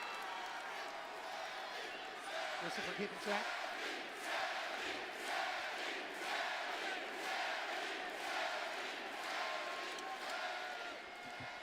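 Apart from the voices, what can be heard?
wrestling crowd cheering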